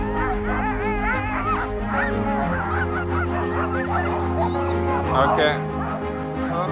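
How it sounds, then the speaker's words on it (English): Excited sled dogs bark and yelp continuously in the snow near Kiruna, Sweden, a dense chorus a short way off, while a person says a brief word. "You can already hear dogs in the background."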